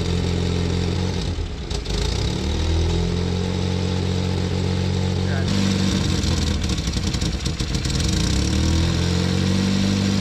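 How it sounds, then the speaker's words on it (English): A Mini car engine runs steadily throughout during carburettor mixture adjustment, its rough idle shifting in pitch and intensity partway through, close and loud. "We're gonna listen for how the engine changes for that mixture."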